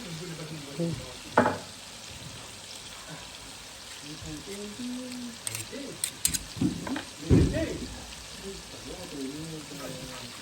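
Peanut paste being stirred into a sizzling Creole dish in a pan, with steady frying hiss, scraping stir sounds and a few louder clunks, under intermittent talk nearby.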